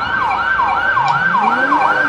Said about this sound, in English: I've got sirens all around me.